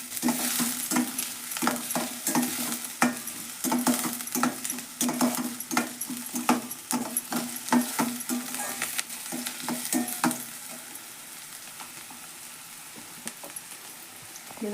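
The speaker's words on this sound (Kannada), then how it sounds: "ಈಗ ಎಣ್ಣೆ ಒಳಗೆ ಫ್ರೈ ಮಾಡ್ತೀನಿ ನೋಡ್ರಿ ಇವು ಉಳ್ಳಾಗಡ್ಡಿ." Onions frying in oil in a pan, a bright steady sizzle with regular stirring scrapes and clinks for about ten seconds before the sizzle quiets down on its own.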